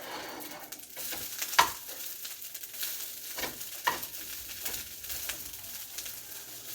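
Fried rice sizzles steadily in a hot pan at lowered heat, with scraping and stirring strokes and occasional sharper clinks of the utensil, close and continuous with no voices.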